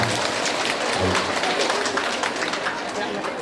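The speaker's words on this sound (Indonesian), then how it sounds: "Tepuk tangan buat beliau tidak apa." A crowd at a mosque gathering in Kowloon claps steadily for a few seconds, dense and continuous applause with a bit of chatter mixed in.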